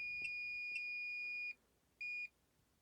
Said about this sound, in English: the continuity buzzer is going off